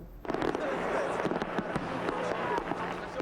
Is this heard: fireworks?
yes